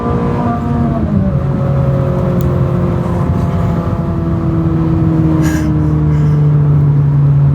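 A Ferrari engine pulls hard through the gears, its loud tone climbing steadily in pitch and settling into a strong high drone heard close from inside the car.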